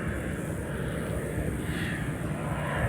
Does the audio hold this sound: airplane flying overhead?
yes